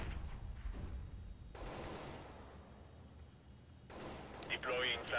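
Gunfire in a tactical shooter video game, scattered shots and bursts at a moderate level with quieter gaps, under a voice.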